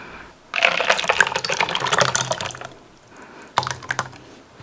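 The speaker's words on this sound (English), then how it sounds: "So this is just how we're going to pour it so that it doesn't beat down my white layer." Liquid indigo soap is poured from a small bowl, making a steady close trickling and splashing for about two seconds, then a pause and a shorter second pour.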